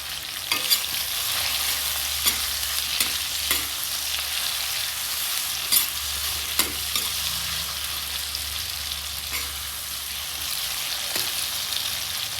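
Masala sizzles steadily in a pan for a village-style fiddlehead fern and potato dish, a continuous close frying hiss broken by occasional light scrapes of stirring.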